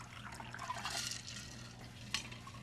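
A stirred ice wine cocktail is strained and poured into a glass, a soft, continuous liquid trickle with a brief splash near the end, fairly quiet against low background hum.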